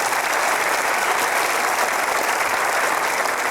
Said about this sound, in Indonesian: penonton yang tepuk tangan